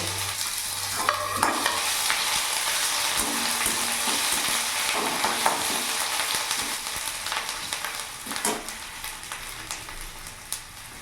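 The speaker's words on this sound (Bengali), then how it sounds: "ফোড়নটা ভাজা হয়ে গেছে, এরই মধ্যে আমি গ্রেট করা আদাটা পুরোটা দিয়ে দেবো" Dried red chillies and whole cumin fry in oil as grated ginger goes in, giving a faint, continuous sizzle with scattered stirring scrapes and clicks.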